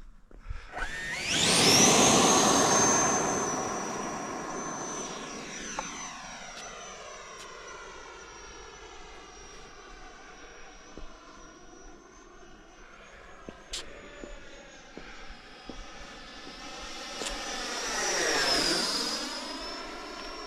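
An E-flite Viper 90 RC model jet takes off at Arnarvöllur airfield, its ducted-fan whine rising to a loud, high-pitched scream, then holding steady as it pulls away and swelling again on a close pass, with no one talking.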